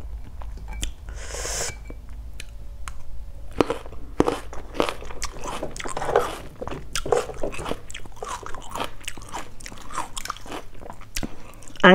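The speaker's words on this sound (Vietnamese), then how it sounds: "Cắn cái làm cái bụp." Sour gooseberries, crisp and crunchy, bitten and chewed close to the mic, a string of sharp cracking crunches and moist chewing that runs steadily for several seconds without speech.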